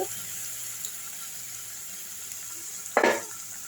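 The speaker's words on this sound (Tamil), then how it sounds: "இப்போ இந்த தக்காளி வெங்காயம் பேஸ்ட்டை ஊற்றிடலாம் இஞ்சி பூண்டு தக்காளி வெங்காயம் பேஸ்ட்டு" A tomato, onion, ginger and garlic paste sautéing in oil, heard as a steady hissing sizzle throughout, with a sudden louder crackle and splash near the end as more goes into the pan.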